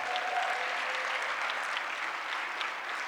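At an affordable housing forum, the audience gives a steady round of applause for the MC, a continuous wash of clapping at even loudness throughout.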